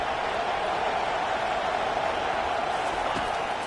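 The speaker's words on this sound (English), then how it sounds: "This crowd bringing the energy and noise early." A stadium crowd roars at a Week 1 football game, a dense continuous wash of cheering and noise at steady loudness with no distinct breaks.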